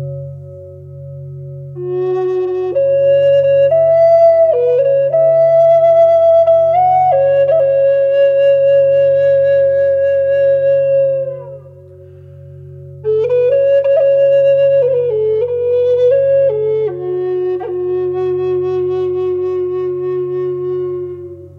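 Sustained electronic keyboard tones imitating a crystal singing bowl ring over a low steady drone, held pitches shifting slowly in two long phrases, clear and loud with no talking.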